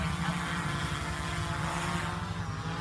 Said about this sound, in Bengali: আমি ড্রোনটা এখন ফ্লাই করছি